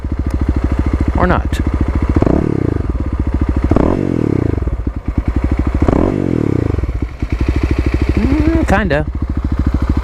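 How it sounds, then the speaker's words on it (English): Kawasaki KLX351 EFI motorcycle engine idling while stationary, then revved several times in rising and falling surges, loud and close, with brief talk over it. "Let's do the stationary rev test."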